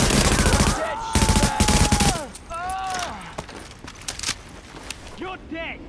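Heavy automatic gunfire rattles in loud rapid volleys during a Tom Clancy's The Division firefight, then gives way to scattered shots as voices speak over the action.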